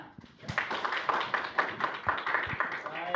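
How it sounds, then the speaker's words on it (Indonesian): A classroom of students clapping hands together, a dense, fairly soft patter of many palms with steady rhythmic pulses, close and continuous for a few seconds. "Tepuk tangannya."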